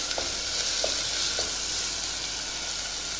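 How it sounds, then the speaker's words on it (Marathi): Tomato puree sizzles on fried garlic in a pan, a steady close hiss of frying with a few faint stirring taps. "लसूण झाला की लगेच त्यावर टोमॅटो पेस्ट टाकायची आपल्याला"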